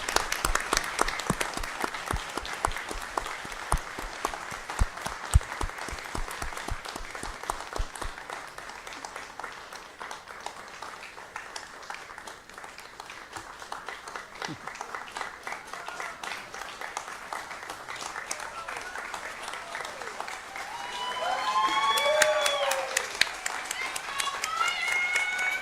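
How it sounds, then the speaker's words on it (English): Audience applause fills a school board meeting, a long steady round of clapping from a crowd that thins in the middle, then swells again near the end as scattered voices rise over it. "Let's give this guy a round of applause."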